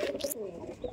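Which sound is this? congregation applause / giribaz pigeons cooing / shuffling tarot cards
giribaz pigeons cooing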